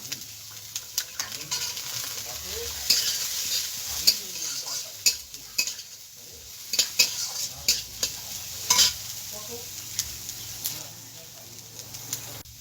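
Chopped beans and carrots are stirred and fried in a pan for an oats dish, with a steady sizzle and repeated clinks and scrapes of the spatula against the pan, growing busier midway.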